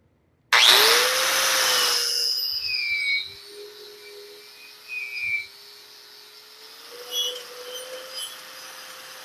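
A power tool's wire wheel spins up with a sharp burst, then whines steadily as it works slag off a flux core weld. The pitch dips and swells under load, with scraping grit throughout.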